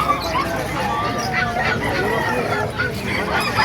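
Hens and roosters cluck and crow at a poultry market in Calumpit, Bulacan, a busy overlapping flock chatter with a rooster crow rising through it and people talking throughout.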